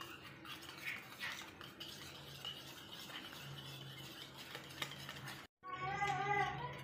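Beaten egg mixed with turmeric, coriander powder and cumin in a bowl, quiet clinking and scraping of a spoon against the dish, with a brief pause near the end.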